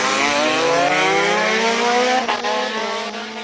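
Single-seater race car blasting past at a hill climb speed-timing section, engine a loud sustained high-revving howl with pitch slowly climbing, fading slightly at the end as it passes.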